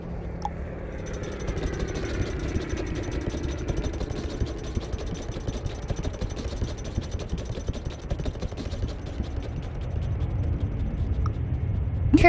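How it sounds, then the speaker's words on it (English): A turbine aircraft engine runs with a steady, loud broadband roar and a high-pitched whine, holding constant for the whole stretch and swelling slightly near the end. "Turbine engine."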